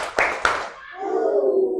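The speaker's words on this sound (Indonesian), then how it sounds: "Sebelum kita masuk ke materi, kita tepuk semangat dulu, oke?" Two sharp hand claps ring out in a classroom as part of a rhythmic 'tepuk semangat' clapping chant, followed by a sustained voice calling out over fading room sound.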